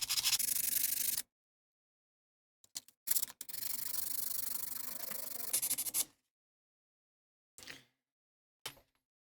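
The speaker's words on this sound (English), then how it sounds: "I'm going to take some sandpaper, make this really, really smooth" Sandpaper rubbed by hand over a metal key blank, heard in two close, steady bursts of scratchy friction, the first about a second long and the second about three seconds, followed by a few brief scrapes in otherwise silent pauses.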